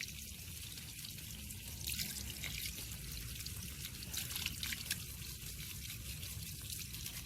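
Water poured over a potted Aglaonema plant, trickling and draining out of the pot in a steady, faint, continuous splashing stream with no voices.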